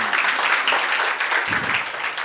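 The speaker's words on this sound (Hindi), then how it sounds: "वनीता के लिए तालियां." An audience at a magic show in Geeta Ashram applauds in a continuous, fairly loud burst of clapping with no voices over it.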